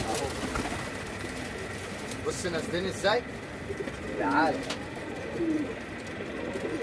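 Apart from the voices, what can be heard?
pigeons cooing in a loft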